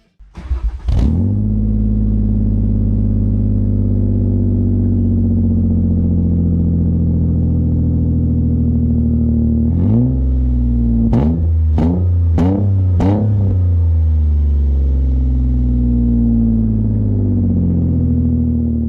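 A Ford Mondeo V6 with a custom-made stainless steel exhaust starts, idles with a deep steady note, then gives a series of four quick sharp revs before settling back to idle, close and loud.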